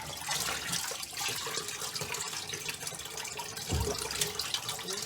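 Water from a sink of hot water used to soak yarn drains away in a steady broadband gush and gurgle, close and continuous, with a brief low thump partway through.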